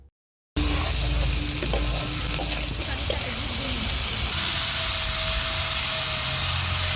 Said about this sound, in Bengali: সবার প্রথমে এখানে ফ্রাইড রাইসটা আমরা করে নেব